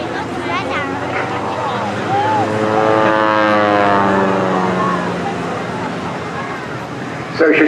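Propeller aircraft performing an aerobatic display at the Torbay Airshow, its engine drone swelling and pitching up and down as it passes, loud and continuous with crowd babble and talk underneath.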